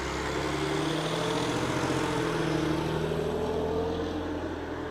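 A United Airlines plane departing Las Vegas Harry Reid International Airport gives a steady, loud, continuous engine roar with droning tones throughout, and no voices are heard.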